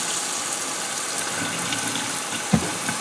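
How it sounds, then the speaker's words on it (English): Hot water runs from a Wee Wee brand faucet bought on Amazon, a steady broadband hiss of flow into a sink, with a small clunk near the end. "Let's get some hot water going here. This faucet, by the way, came from Amazon."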